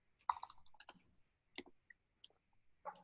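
Clicky typing on a computer keyboard while entering a password, a few separate bursts of keystrokes, quiet and close, with no talk.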